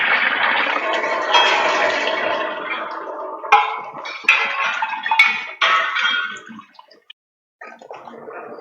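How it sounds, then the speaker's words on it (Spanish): Running water washes a fine aggregate sample over sieves, splashing and gurgling loudly at first, then breaking into short bursts with brief gaps near the end. "Este lavado se va a realizar hasta que el agua salga completamente limpia."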